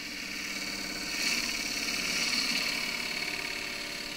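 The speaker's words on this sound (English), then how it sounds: "I might just dish the top very slightly, I think, and half inch spindle gouge." A wood lathe turns an eggcup while a half-inch spindle gouge dishes the top, giving a continuous whirring hum with a light scraping hiss that swells briefly midway, close and steady without speech.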